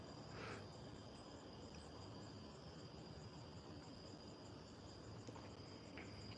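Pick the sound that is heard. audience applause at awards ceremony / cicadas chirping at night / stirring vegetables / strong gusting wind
cicadas chirping at night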